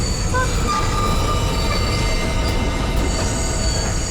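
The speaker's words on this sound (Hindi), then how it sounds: "ट्रेन यहाँ क्यों रुकी?" A train rumbles loudly and steadily along the rails with metallic wheel squeal and screeching tones, a continuous close railway roar with no talk.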